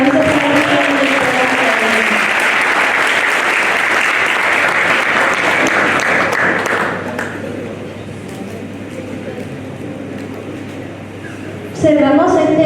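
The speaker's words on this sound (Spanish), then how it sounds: "Fuerte los aplausos para nuestra directora." Applause for a director at a health and education event, loud and dense for about seven seconds, then thinning to scattered faint clapping before a sudden burst of sound near the end. Voices talk under the clapping.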